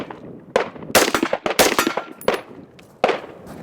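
Rifle gunshots crack in quick pairs of doubles, loud and close, with a few short bursts spread across a few seconds.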